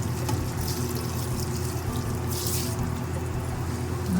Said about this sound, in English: I'm going to add the wine.